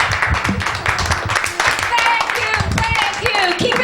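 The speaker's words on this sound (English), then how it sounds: "Round of applause, please." Comedy club crowd at an open mic night applauds loudly for the headliner, with claps and cheers mixed with voices and shouts throughout.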